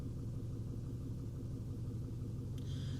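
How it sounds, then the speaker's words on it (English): A Ford F-150 with a 5.4L 3V V8 idles with a bad knock, a steady low rumbling beat close to the microphone and unchanging for its whole length, with no talk. "This engine's got a horrible knock."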